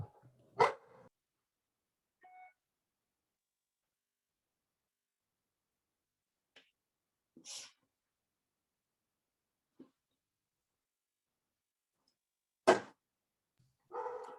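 Dog barking in short, sharp bursts, a few isolated barks spaced irregularly across long stretches of near silence, moderately close.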